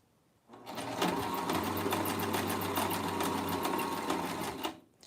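A sewing machine stitching lingerie runs in one steady burst of about four seconds, a close, loud, rapid mechanical chatter that starts and stops cleanly.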